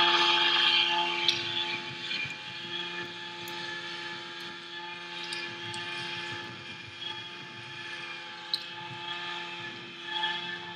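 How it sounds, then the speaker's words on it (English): Simulated or model helicopter hovering in place during an AI control demonstration, a steady droning rotor and engine hum with a constant tonal whine, holding even and continuous throughout with no talking. "so we can get the helicopter to hover in place"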